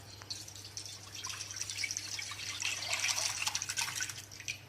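Water pours and splashes into a wok in a steady stream for Thai jungle curry with curry paste, swelling louder midway, heard close over a low background hum.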